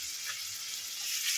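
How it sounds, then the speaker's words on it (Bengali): Ginger paste frying in a pan, giving a steady, fairly quiet sizzle with a hiss that holds evenly throughout and swells slightly toward the end. "ভেজে নেব।"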